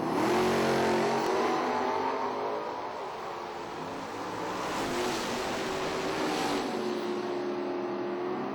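Drag racing cars, one of them a Mustang, accelerating hard down the strip, engine whine sweeping and shifting pitch as they pass, loud at first and then easing off.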